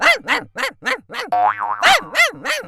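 A voice imitates a fierce dog with sharp-toothed menace, a rapid string of about eight loud, close bark-like yelps broken midway by a brief springy, wobbling tone.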